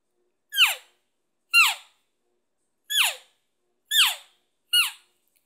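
Five short, high squeaky chirps from an elk call mimicking a calf, each a brief falling whine, spaced unevenly at close range with silence in between.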